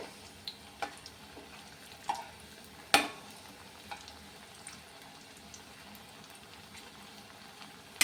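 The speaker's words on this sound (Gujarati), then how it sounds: "થોડાક દબાવીને ફરીથી તળીએ છીએ ને તો ક્રિસ્પી થઈ જાય છે" Pressed raw banana pieces fry a second time in oil, a faint low sizzle punctuated by occasional sharp clinks and taps from utensils.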